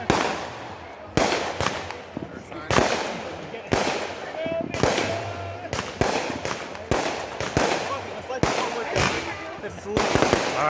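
Backyard fireworks on July 4th 2020 going off in repeated loud bursts and crackles, about a dozen sharp bangs spread across the stretch with sizzling tails, close by, with people talking faintly in between.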